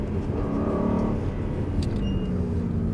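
A car engine hums steadily close by, rising slightly as it accelerates, with a continuous low rumble and no talking.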